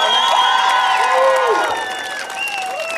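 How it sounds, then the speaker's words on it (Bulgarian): Applause and cheering for teachers at a school graduation ceremony, a loud crowd roar with whoops and shouts that eases slightly toward the end. "Аплодисменти за учителите на 9-та Френска гимназия"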